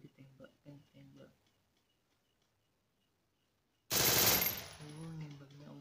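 Loud burst of automatic gunfire in the Free Fire video game, rapid shots starting suddenly after quiet speech and then trailing off, with brief talk before it.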